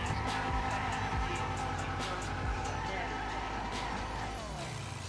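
A rear-wheel-drive car drifting in GTA Online, with a continuous engine roar and tyre noise that rise and fall, while a voice seems to talk over it.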